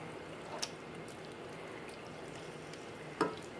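Mushrooms and asparagus are stirred in a frying pan, a faint steady sizzle with two brief utensil scrapes, quiet and without voices.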